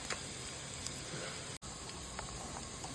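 Onion and ginger fry in a pan for a coastal-style Pulimunji fish curry, giving a steady, close, even sizzle with a few faint scraping ticks and one brief break partway through. No voices are heard.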